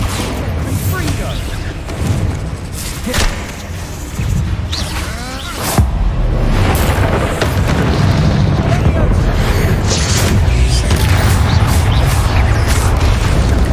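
Bombarda spell explosions in the Hogwarts Legacy video game, loud booming blasts repeating through a dense, continuous stretch of combat effects and other game sounds.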